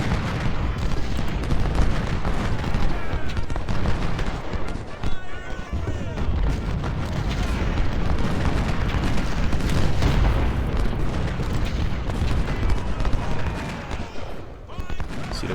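Rifle volleys and booming shots fire continuously in a Civil War battle in Ultimate General: Civil War, set at Shiloh. The bursts are dense and overlapping under a continuous din, with someone talking over them.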